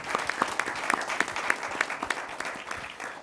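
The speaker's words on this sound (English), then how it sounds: "Can you please give her a round of applause?" Applause greets a school board member at a community discussion in Riviera Beach, moderately dense clapping from a modest crowd with a few sharp, distinct claps standing out near the front.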